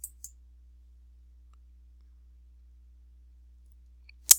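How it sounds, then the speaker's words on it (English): Computer mouse clicks: two quick, crisp clicks at the start, a long silent stretch, then one more sharp click at the end. "So we're going to click on P2 details."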